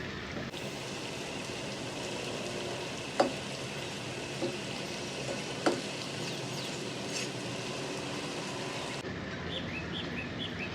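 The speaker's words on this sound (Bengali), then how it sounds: "পিঠাগুলো ভাজা হয়ে গেছে, আমি এবার উঠিয়ে ফেলবো।" Mango puli pitha frying in a pan of oil gives a steady, even sizzle for most of the stretch, broken by a few soft clicks, with faint bird chirps in the background and no talking.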